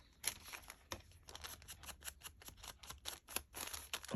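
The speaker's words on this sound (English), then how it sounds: "I'll just trim it down if I need to." Scissors snip a small paper pharmacy bag, trimming it down into a pocket notebook cover; a quick run of close, crisp cuts with faint paper rustle in between.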